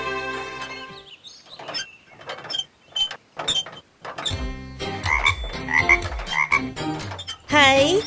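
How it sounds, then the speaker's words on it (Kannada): A cartoon frog trapped in a village well croaks in loud, close, repeated bursts, mixed with creaking mechanical sound effects in a Kannada children's animation. "ಹೈ, ಒಂದು ಕಪ್ಪೆ."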